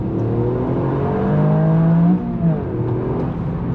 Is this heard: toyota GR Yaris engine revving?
yes